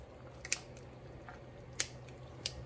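Kitchen scissors snip through pork in a skillet, giving three sharp, brief cuts spread across a steady low background hum.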